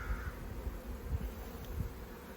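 Honey bees swarm around an opened hive during a brood inspection, giving a steady low droning hum close by, with no voices.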